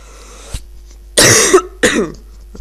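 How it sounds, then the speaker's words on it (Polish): Three harsh coughs in a row, very loud and close: a short first one, then two longer throaty bursts with brief silences between. "ten kaszel jest nieznośny"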